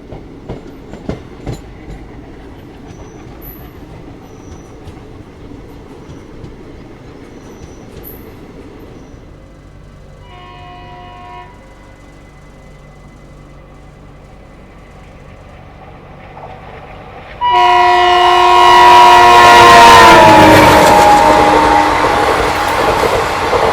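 Aboard the Somnath–Ahmedabad Intercity Express, a quiet rolling rumble continues until another train rushes past close by, bringing a sudden loud roar with squealing tones that stays to the end.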